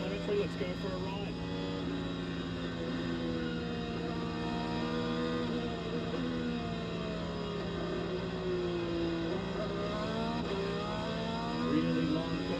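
An IndyCar engine heard onboard, revving high and shifting through gears with rising and falling whines, loud and continuous, with a commentator talking over it.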